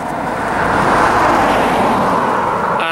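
A car passes close by on a road near footpaths and a cinder track, a broad whoosh that swells and then fades, loud and alone with no talk.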